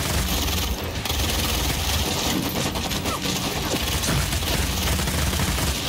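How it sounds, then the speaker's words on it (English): Rapid bursts of rifle fire from a burst rifle in Vampire: The Masquerade - Bloodhunt, loud and continuous throughout, dense overlapping gunfire with no voices. "that's a burst rifle"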